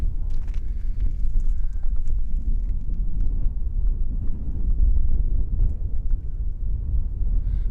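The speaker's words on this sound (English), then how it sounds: "I'm sure the wind's real bad right now." Strong wind buffeting the microphone at a desert campsite during an overlanding trip, a loud continuous low rumble with gusty surges and no clear voices.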